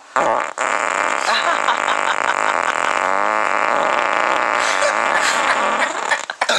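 A long, loud, buzzing fart runs almost continuously for several seconds, with its pitch wavering and rasping close to the microphone, and a brief break near the start.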